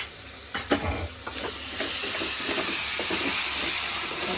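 Ginger garlic paste frying with chicken in a pan, a loud steady sizzle broken by repeated scraping stirs and spatula knocks, close and continuous without voices.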